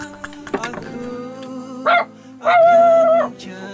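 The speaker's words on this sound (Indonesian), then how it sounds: "Oh, ada si guguk juga." A dog near a lone house barks and yips in a few short, loud bursts with brief pauses between them, close by and clear, with no talk over it.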